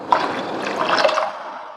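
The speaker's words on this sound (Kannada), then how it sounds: "ಸೊ ಬೇಳೆ ಇದಕ್ಕೆ ಸ್ವಲ್ಪ ನೀರು ಹಾಕ್ತೀನಿ." Water poured into a cooking pot of lentils for a peanut and okra sambar, a brief splashing, gurgling pour heard close up with no talking.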